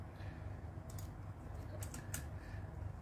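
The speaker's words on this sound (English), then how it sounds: "give me a moment as I type out my WhatsApp link" Quiet keystrokes on a computer keyboard, a few scattered light clicks in short bursts over a steady low background hum, with no talk.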